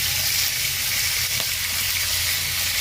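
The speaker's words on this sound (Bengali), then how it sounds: "মাছগুলো ভাজার পরে তারপর হচ্ছে আলু আর পটলগুলো ভেজে নিব" Fish sizzles in hot oil in a pan over a clay stove, a steady, even crackling hiss that continues alone throughout.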